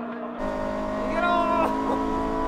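A Toyota AE86 race car at full throttle, fighting oversteer through a final corner during an AE86 club track battle. Its engine gives a loud, steady, rising howl throughout, with a voice talking over it.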